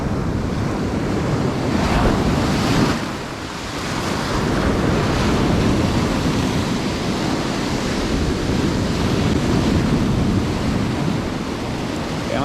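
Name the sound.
wind at the sea while fishing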